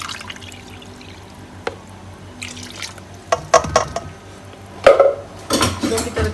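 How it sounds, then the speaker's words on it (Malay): Blended, strained pandan water being poured from a container into a pot or bowl of coconut milk, with scattered knocks and clinks of kitchenware, then a louder splashing pour near the end. "Dan saya gunakan 2 cawan air pandan yang dah saya blender dan saya tapis."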